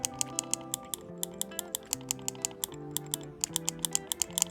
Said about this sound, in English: Now I'm going to press the K1 and K2 close to the mic.